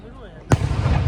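One sharp firework explosion cracks suddenly after quiet chatter at a village fair in Italy, then a rumbling tail of crackle and crowd noise.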